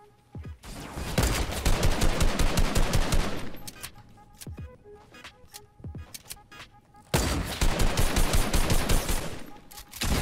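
Dense automatic gunfire from a Fortnite firefight, loud bursts of rapid shots in the opening seconds, a sparser run of single shots in the middle, then another heavy sustained burst near the end.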